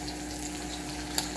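Onion frying in a pan for a cabbage stew, a steady close sizzle with a faint wet hiss throughout and one small pop near the end.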